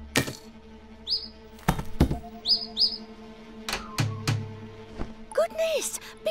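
Cartoon bird in an animated episode giving several short, bright chirps in quick pairs among clicks and thumps, mixed with speech.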